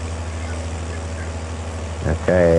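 Tractor engine from Farming Simulator 22 drones steadily at a low, even pitch, with a brief mechanical swell near the end before a louder tonal hum takes over.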